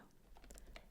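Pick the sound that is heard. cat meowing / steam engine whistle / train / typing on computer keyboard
typing on computer keyboard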